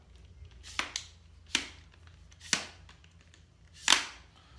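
Minimalist stock with a paracord wrap clicking onto an unloaded Freedom Ordnance FX9 rifle: four sharp, separate metallic clicks about a second apart, close and quiet, with the last one slightly louder.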